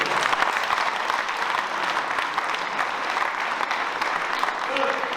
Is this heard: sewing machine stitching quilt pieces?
no